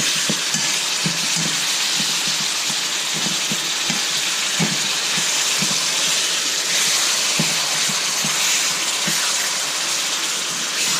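Steak sizzles loudly with onions in a pan over high heat, a dense steady hiss with scattered pops and crackles close up, and no talk over it.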